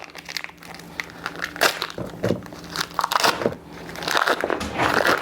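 Knife slicing through a wedge of Brie with its white rind, giving soft crunchy cuts and crinkling taps against a board, close up and moderately loud, with no talk.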